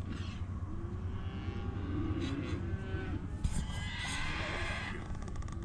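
Cattle bawl in an open pasture on a farm during weaning, with long low moos carrying across at moderate distance over a steady outdoor background.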